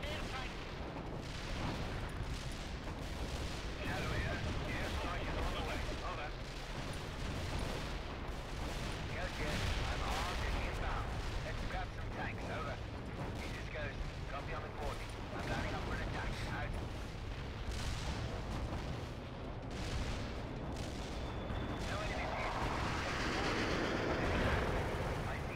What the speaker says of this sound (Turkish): Mortar atışı yer gibi atışıyoruz şu an. Obüs atışı.